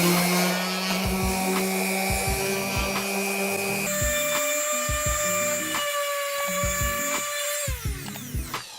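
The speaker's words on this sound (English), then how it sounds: "So I'll put on my hearing protection and get the sanding." A power sander whines at a high pitch as it sands wood. Its tone shifts up in steps, and a faint rhythmic rasping runs beneath it.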